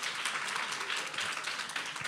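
A brief burst of audience applause at a community session, steady dense clapping from a crowd with no talk over it.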